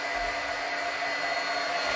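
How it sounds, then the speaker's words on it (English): A heat gun used for rubber stamping warms up with a constant, airy whoosh like a hair dryer, steady and fairly quiet throughout, with no talking. "I'll just heat my gun up down low."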